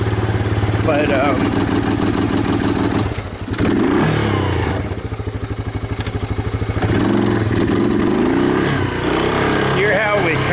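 A Kawasaki Lakota ATV engine with a suspected ignition fault revs and stumbles, breaking up unevenly with repeated dips in its loud, close roar while someone speaks briefly over it.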